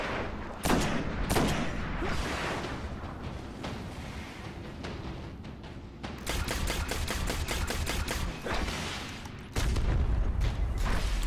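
Rapid automatic gunfire in a Destiny Nightfall Strike against Valus Ta'aurc: loud, steady bursts of auto rifle shots mixed with booming impacts, a tight rhythmic string of shots in the latter half and a heavy blast near the end.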